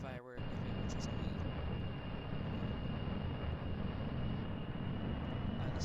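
A fixed-wing airplane engine runs at full throttle in a flight game, a steady loud droning roar that holds unbroken after a brief dip at the start.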